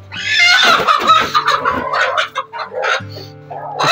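Chickens cluck and squawk loudly at close range, a busy flurry of hen and rooster calls with a low hum running beneath.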